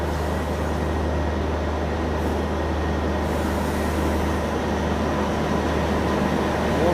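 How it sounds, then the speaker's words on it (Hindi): Lucknow Chandigarh Express train interior: a continuous loud rumble of wheels and carriage noise with a steady low hum, unbroken throughout. "यहाँ पे लखनऊ चंडीगढ़ एक्सप्रेस"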